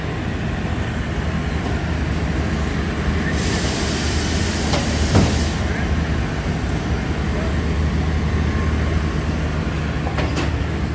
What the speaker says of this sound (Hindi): 14 डाउन अवाम एक्सप्रेस का। मूव होना शुरू हो गई है जी प्लेटफार्म नंबर 2 से।